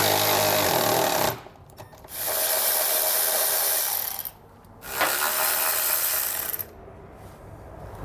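A power tool whirs and rattles in three loud bursts, with short pauses between them, as it removes bracket bolts on a 2022 Toyota 4Runner. It is close by, and no one talks.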